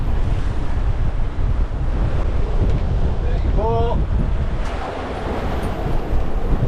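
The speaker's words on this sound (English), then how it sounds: "Super windy again." Heavy wind of about 30 to 35 knots while sailing in the South Pacific buffets the microphone in a constant low roar, with a voice speaking briefly partway through.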